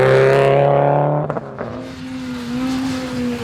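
A rally car at the Rocky Mountain Rally, the same car once campaigned here years earlier, roars at speed with a strong engine drone, a couple of sharp gear-change dips, then a steady higher-pitched pull.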